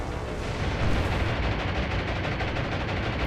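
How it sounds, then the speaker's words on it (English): Sustained anti-aircraft gunfire in the naval combat game War on the Sea, a dense, continuous rattle of overlapping shots and booms that stays loud and steady throughout, with no voices. "As the anti-aircraft fire follows those bombers, here come the Avengers."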